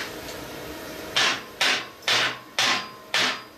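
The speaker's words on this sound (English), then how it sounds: "I have to get a hammer and knock it off." Five sharp hammer blows ring out on plasma-cut metal on a cutting table at a steady, slightly uneven pace, each strike loud and close with a brief ringing decay.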